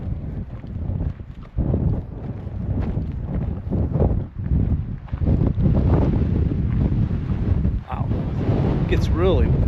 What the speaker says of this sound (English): every afternoon it gets really windy